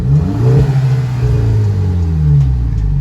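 A VW Mk6 GTI with an aftermarket catback exhaust, before a catted downpipe is fitted, revs loudly and close by, its deep exhaust note rising and falling through a couple of throttle blips.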